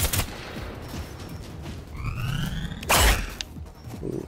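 Gunfire from the Generation Zero video game rattles out in scattered bursts over game ambience, with a louder crack near the end and distant echoing tails.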